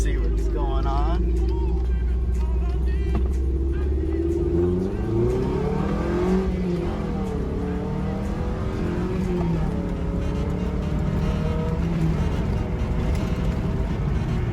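A Toyota MR2 pulls hard in first gear, the engine note climbing and wavering as revs rise, loud and close throughout with a voice speaking over it.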